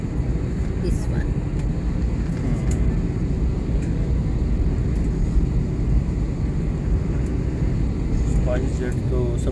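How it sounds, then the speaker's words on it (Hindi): Inside a passenger airliner on a Delhi to Mumbai flight, readying for takeoff, a loud, steady engine roar fills the cabin throughout, with faint voices underneath. "अभी जो है वो टेक ऑफ के लिए हम तैयार, अभी स्पीड बनने वाली है।"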